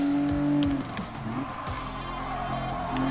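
A mid-engine Renault Clio V6 race car in Gran Turismo Sport, engine revving and shifting with brief tire squeal, close and loud over about three seconds, no talk.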